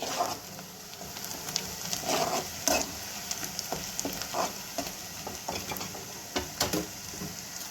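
Onions fry in a pan until golden for a masala curry, giving a soft continuous sizzle broken by irregular scraping stirs and clinks. The sound is close and moderately quiet, with no speech.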